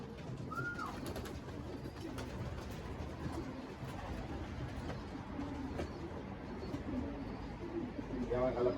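A racing pigeon, a young bird back from a 357 km combine race, coos softly and faintly amid steady outdoor background noise, with a person talking nearby.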